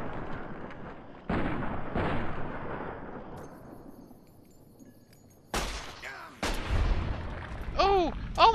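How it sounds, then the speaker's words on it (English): Several sharp, loud gunshots fired into an enemy's head in Fallout: New Vegas, arriving as separate booming bursts with pauses between them, each fading into a rumbling tail, followed by a short ringing tonal effect at the end. "as many shots as I can into his head"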